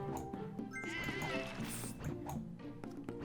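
Sheep bleat in the puzzle video game Divide By Sheep, several wavering cartoonish bleats layered over bright game music and small effect sounds, fairly loud and dense for the whole stretch.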